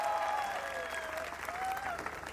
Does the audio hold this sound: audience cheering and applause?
yes